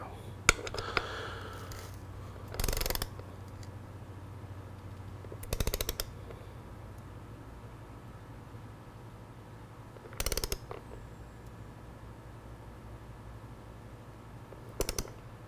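A torque wrench ratchets on an engine case cover bolt of a Yamaha R3 motorcycle, with four short, separate bursts of clicking spaced several seconds apart, close and sharp over a low steady hum.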